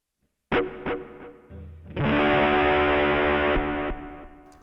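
A Sony HR-GP5 guitar effects unit shapes distorted guitar with a swirling modulation: a few sharp plucked hits, then a loud sustained chord that shimmers and holds before fading.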